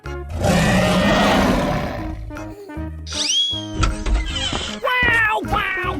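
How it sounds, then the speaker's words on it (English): A dinosaur in a 3D animal sliding video game lets out a loud, close, rumbling roar. Sharp cartoonish sound effects and other animal calls follow it. "Dinosaurs."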